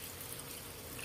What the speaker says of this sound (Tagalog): lagyan natin ng tubig para po lumambot muna